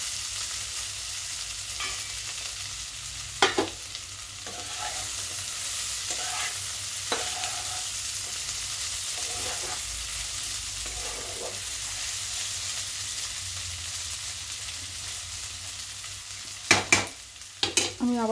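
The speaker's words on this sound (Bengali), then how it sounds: "এবার আমি ভেজে রাখা মাছগুলোকে দিয়ে দিচ্ছি" Small fried fish stirred into a pan of potato, tomato and onion curry, a steady low sizzle of frying under occasional scraping stirs and a few sharp clinks of a spatula against the pan.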